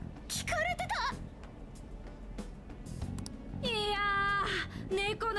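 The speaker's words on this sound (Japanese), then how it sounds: "猫の声には敏感でね。" Two distinct cat meows in the video game Persona 5 Scramble, a short one early and a longer drawn-out one near the end, over a steady background hum with a brief spoken word.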